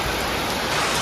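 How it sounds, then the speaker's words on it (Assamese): Heavy rain pours down steadily, a dense broadband hiss close by with no pauses and no voices over it. "বৰষুণটো এনেকুৱাকৈ আহি গ'ল মানে দপদপীয়াকৈ"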